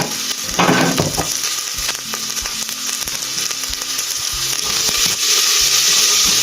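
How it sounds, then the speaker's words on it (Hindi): Sliced onions sizzle and fry steadily in about two tablespoons of hot oil, with occasional scrapes and stirs in the pan, close and continuous with no talk. "प्याज को हमने थोड़ा सौते कर लिया है"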